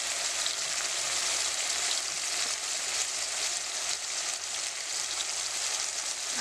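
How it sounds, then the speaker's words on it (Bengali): Spice pastes frying together with fried raw jackfruit in a pan, a steady bright sizzle that hisses evenly throughout at close range with no talking. "আমার ইঁচড়টা ভাজা হয়ে গেছে, একে একে বাকি মশলাগুলো আমি এর সাথে দিয়ে দিব।"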